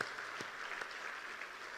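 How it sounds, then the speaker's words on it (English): Sustained applause from a fundraising gala audience, a dense steady wash of clapping with a few louder individual claps, mid-distance and continuous throughout. "Please give them another great big round of applause."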